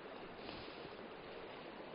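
Water rushes fast and steadily along a drainage channel beside a woodland path near Seckington Water on Bursdon Moor, a continuous close, full hiss with no breaks and no voices.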